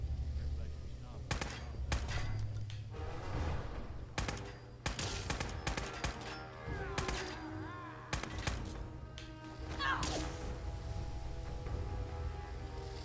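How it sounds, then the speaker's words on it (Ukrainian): Rapid bursts of plasma gun fire in Fallout 4 crack repeatedly in irregular volleys over a low engine-like rumble, with occasional thuds and chatter of combat. "Из плазмы стріляє."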